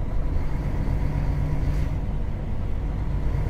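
A tractor rumbles past on a narrow, busy, winding country road near small farms, its engine a steady loud drone that holds close throughout without a break.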